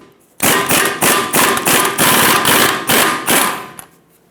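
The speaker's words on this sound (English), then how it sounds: "Hopefully the impact of the hammer going this way will want to break this stud free from the drag link." Eight sharp, loud metal hammer strikes ring out in a fairly even rhythm against a drag link stud on a 1999-2025 Ford E-350 steering linkage, close to the microphone, each blow followed by a brief ringing decay.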